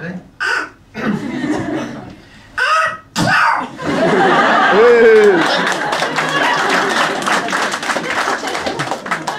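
A voice imitates a squawky, duck-like sneeze in a few short bursts, followed by a stretch of busy, noisy sound.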